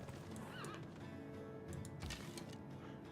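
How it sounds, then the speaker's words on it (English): A horse archer unit in Civilization 6 whinnies in a clear, rising-and-falling neigh early on, followed by hoof clip-clop and a softer second neigh over light game ambience. "Let's bring up our horse archer."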